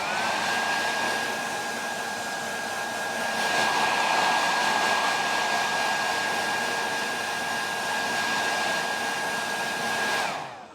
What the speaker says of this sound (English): take a hairdryer